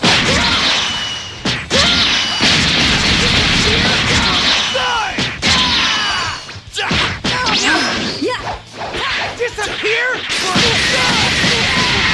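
Dragon Ball Xenoverse battle audio, with the Special Beam Cannon attack amid rapid whooshes, heavy thwacks and crashing blasts, punctuated by shouted battle cries and loud, dense combat effects throughout.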